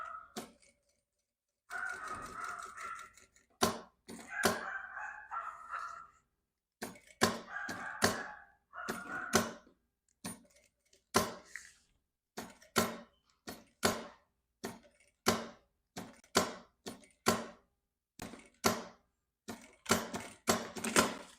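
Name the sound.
sewing machine backstitching back and forth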